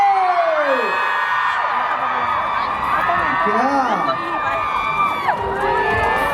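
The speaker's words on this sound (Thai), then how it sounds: "ส่งเสียงกรี๊ดได้กับเชลลี่" A crowd shrieks and cheers loudly and continuously, high excited voices overlapping, with a voice calling out over the noise at the start.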